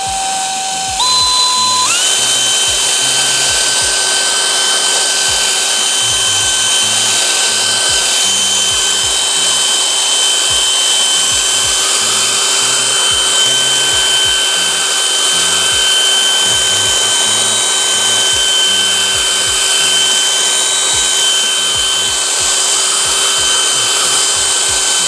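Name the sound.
polisher working Griot's Garage ceramic metal polish on wheel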